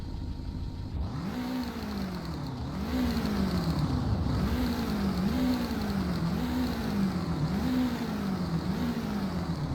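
A BMW X6 engine in the Roblox game Greenville revs repeatedly, a steady drone rising and falling in about six regular swells, close and loud with no talking.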